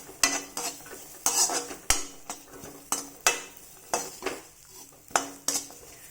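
A spoon scrapes and knocks against a pan while grated coconut is sautéed for paruppu thovaiyal, giving about a dozen rhythmic, sharp metallic strokes with a soft sizzle beneath and no voices.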